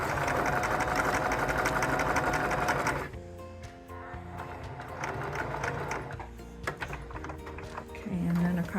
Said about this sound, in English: it might seem strange to be sewing on the right side of the fabric like this